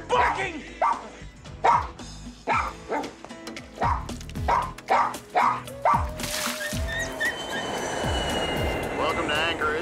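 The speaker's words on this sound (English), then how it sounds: "I'm so sick of your barking!" A small poodle barks repeatedly in sharp, evenly spaced bursts, close and loud, followed by a short hiss and a rising whine over a busy background with speech.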